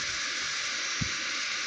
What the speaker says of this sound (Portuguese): tipo chiando, né? Passando a água